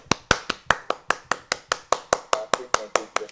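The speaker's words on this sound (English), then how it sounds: "So we have some fake applause." Fake applause played as a sound effect on a talk show, a run of about fifteen sharp, evenly spaced claps, close and fairly loud, sounding more like single hand claps than a crowd.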